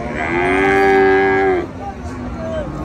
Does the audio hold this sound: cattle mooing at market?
yes